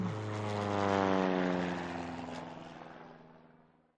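An early propeller airplane flies by at an air show, its droning engine rising and then slowly fading away with a falling pitch, heard alone without talking.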